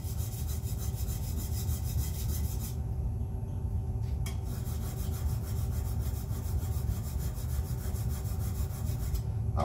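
A tool being sharpened by hand, with continuous steady rubbing and rasping strokes at moderate level and no talk.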